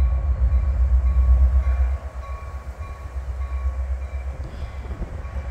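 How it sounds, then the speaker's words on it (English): A heavy Canadian National freight train, one engine hauling a massive load, rumbles past slowly on a rainy night with a deep, steady low roar and faint rattling, no voices heard. "And we got a train, he is crawling."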